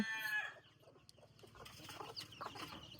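Chickens clucking softly nearby, with a few scattered squawks and flutters over a quiet background.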